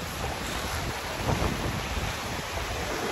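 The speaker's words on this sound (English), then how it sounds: "listen to the waves, and enjoy myself." Ocean waves washing onto a beach, a continuous loud rushing surf with wind noise and no talking.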